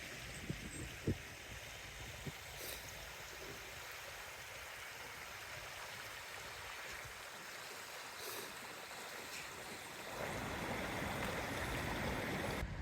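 A normally calm river in Burrillville, swollen by flooding, rushes past in a steady broadband roar of water, continuous and moderately loud throughout, growing slightly fuller near the end.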